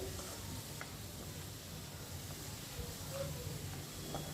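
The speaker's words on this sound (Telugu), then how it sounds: "ఒక మూడు ఉల్లిపాయలు అయితే తీసుకుంటున్నాను బాగా వేగాలండి" Onions and long-cut green chillies frying in oil in a home kitchen, a steady low sizzle with faint stirring scrapes running throughout, quiet and continuous.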